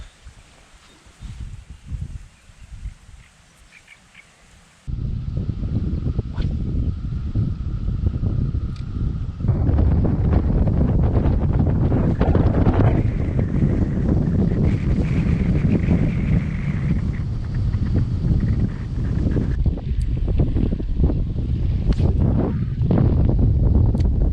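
Strong wind buffets the microphone outdoors while fishing, a heavy, continuous roar that starts after a quieter opening and keeps gusting loudly.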